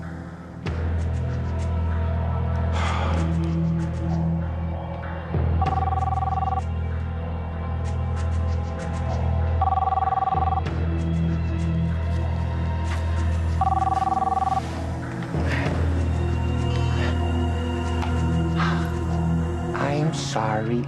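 A telephone rings repeatedly and goes unanswered in a soap opera scene, three short ring bursts spaced several seconds apart, sounding under continuous dramatic music and talk.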